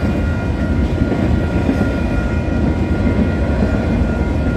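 A CPKC freight train rolls past at Leaside, Milepost 205.35 on the Belleville line, a loud continuous rumble and wheel roar filling the whole stretch with no letup.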